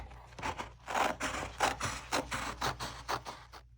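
Scissors snip steadily through fabric to cut out an oven mitt piece, a close, rhythmic run of about a dozen crisp cuts in quick succession with no talk.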